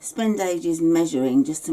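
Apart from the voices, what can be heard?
No everyday noise stands out behind the speech.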